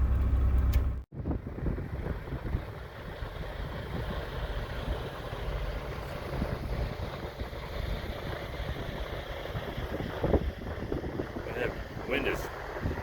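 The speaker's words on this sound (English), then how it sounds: "Wind is picking up pretty good, isn't it?" Strong gusts buffeting the microphone outdoors, a continuous low rumbling roar with an engine-like drone underneath, and a person speaking partway through.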